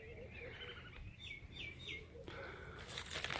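Doves gathered waiting for feed flutter their wings and give a few soft, quick chirps, faint and close in a quiet outdoor setting, with brief rustling bursts near the end.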